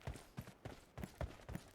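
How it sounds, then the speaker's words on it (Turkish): Rhythmic footsteps in a PUBG-style battle royale shooter, a steady run of about eight soft thudding steps at an even pace, fairly close and alone without talk. "Burada ayak sesi var."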